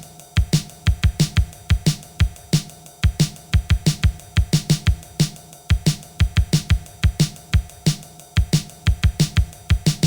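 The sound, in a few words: constant ride cymbal pattern over drum beat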